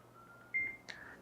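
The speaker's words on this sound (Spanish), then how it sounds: "Após o bip de positivo do equipamento" Ryodoraku electrodiagnostic equipment gives a short, faint electronic beep as its two probe tips touch, a thin tone followed by a brief higher chirp over quiet room hiss.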